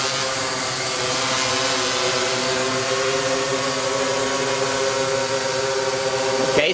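DJI S800 hexacopter drone hovering at about ten meters, a steady loud multi-rotor whine with stacked propeller tones holding level and close throughout.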